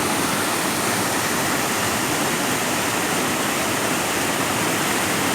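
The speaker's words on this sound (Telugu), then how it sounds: "కైగల్ కైగల్ జలపాతం" Kaigal waterfall in Chittoor district pours over rocky hillside channels in a dense, unbroken roar, loud and close with no voices.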